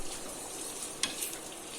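Egg frying on a nonstick tava, a steady soft sizzle with one small pop, heard alone at low volume.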